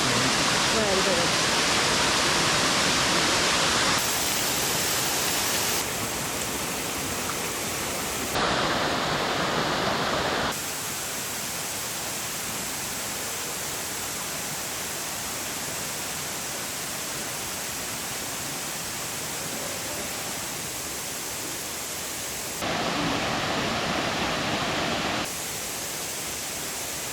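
Waterfall near Munduk, Bali, roaring as a loud, constant broadband rush of falling water throughout, with slight shifts in level as the listener moves; people talk faintly beneath it.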